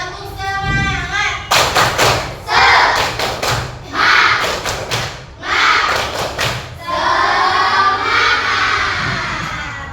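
A class of children claps out a rhythmic spirit clap in loud repeated bursts of patterned clapping, with voices chanting and talking throughout.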